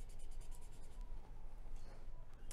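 Charcoal drawn lightly across drawing paper in a steady, soft scratchy rasp, close and quiet, continuous with small gaps, no voice.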